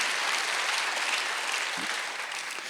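A church congregation at a Sunday worship service applauds in a dense, even roar of clapping that holds steady and slightly softens toward the end.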